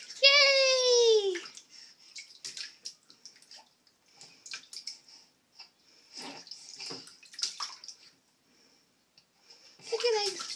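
A small child kicks legs in bathtub water, making scattered close splashes and drips, with a child babbling and an adult voice chirping over the sloshing.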